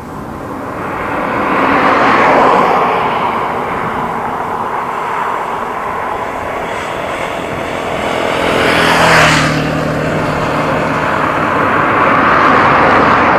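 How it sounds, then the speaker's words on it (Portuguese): A motorcycle on a roadside approaches and passes by, its engine noise swelling, fading slightly and then surging again in a loud drive-by sweep, with no talking. "tá vindo mais um lá de moto"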